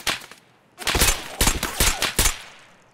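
An SVD rifle in Escape From Tarkov fires several sharp shots close together, one, then a rapid cluster of four, each loud and crisp, with no talking.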